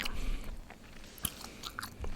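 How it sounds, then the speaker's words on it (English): Gum chewing, extra long-lasting sweet watermelon flavor, picked up in close ASMR style: soft, quiet wet chews and small smacks stay low throughout, with a sharper click near the middle and no talking. "And I'm chewing gum. I have extra long-lasting flavor, sweet watermelon."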